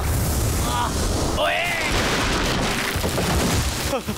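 A loud, busy cartoon explosion blast in a Hindi-dubbed Boonie Bears cartoon, with rumbling and whooshing effects, swooping tones and voices woven through the din.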